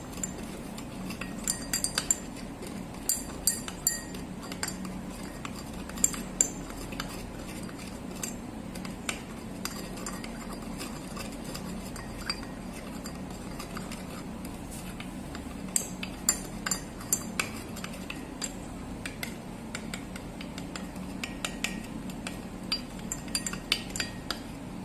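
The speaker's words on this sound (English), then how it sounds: "Mix it well with the help of the glass rod." A glass rod stirs common salt into water in a beaker, giving a steady run of light glassy clinks and taps that repeat through the whole stretch over a soft room background, with no talking.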